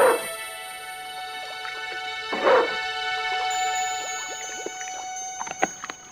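A dog in the Broken Sword II video game barks a few times, with sharp yips spaced a couple of seconds apart and quieter whimpering noises in between, over a steady synthetic music backdrop.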